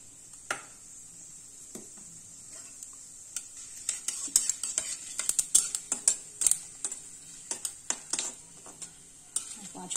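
Panch phoron spices sputtering in hot oil for a taro-leaf dish, scattered sharp pops and crackles that grow denser partway through, close and moderately loud.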